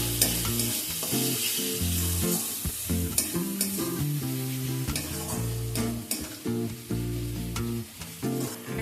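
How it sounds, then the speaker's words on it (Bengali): Ground chili, coriander and cumin being stirred and fried for dal palak, a close sizzle under repeated spoon scrapes against the pan, with music playing throughout. "সমস্ত কিছু ভালোভাবে মিশিয়ে নেব।"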